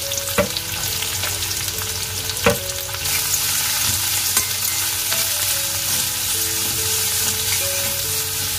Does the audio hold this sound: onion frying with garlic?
yes